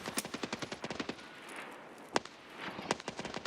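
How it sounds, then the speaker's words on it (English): Rapid automatic gunfire in Escape from Tarkov, a fast string of sharp cracks with a short pause and then a few more shots, fairly close and loud. "Is that you shooting?"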